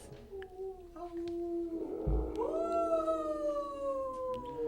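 Wolves howl at night in long, sliding, overlapping cries, moderately distant and layered against a low rumbling background, with no speech.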